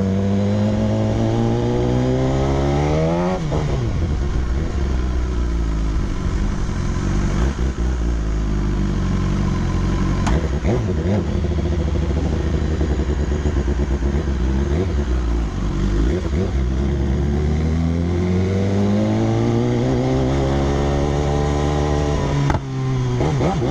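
A customised 2019 BMW S1000 motorcycle engine revs hard and repeatedly, rising and falling in pitch through several sweeps, loud and close, with crackling backfire pops at the peaks of the revs.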